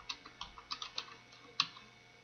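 Keys on a computer keyboard are pressed in a short burst of light, close clicks typing a page name, followed by a final sharper tap and then quiet.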